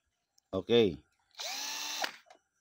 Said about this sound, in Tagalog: hand drill, pero sa mababang RPM lang. Mabagal lang yung ikot.